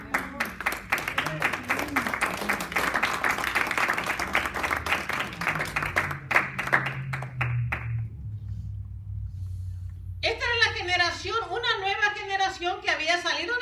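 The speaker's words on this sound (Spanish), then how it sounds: "Denle un aplauso al Señor." Church congregation applauding during a Spanish-language sermon, brisk rhythmic clapping for about eight seconds over a low hum, then near silence before voices begin speaking.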